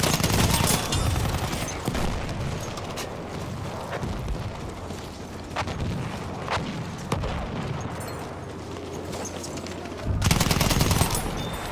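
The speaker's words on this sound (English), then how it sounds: "So many sniper shots." Rapid gunfire and sniper shots in Battlefield 1 multiplayer on PS4, loud bursts and single cracks over a constant battle rumble, with a heavier barrage near the end.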